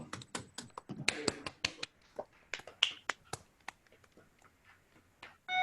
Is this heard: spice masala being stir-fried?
no